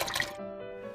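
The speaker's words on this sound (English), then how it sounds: "I've got a half a gallon of whole milk that I'm pouring into the pan." Half a gallon of whole milk pours into a pan for homemade yogurt, a brief soft liquid splash and trickle up close that quickly settles into quiet.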